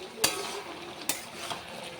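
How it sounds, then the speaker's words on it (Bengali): Fish heads go into a pan of partly cooked Malabar spinach and are stirred with a utensil: a few sharp metallic clacks at irregular intervals over a faint, quiet background. "এখন মাছের মাথাগুলোও দিয়ে দেবো। ভালো করে মিশিয়ে নেব।"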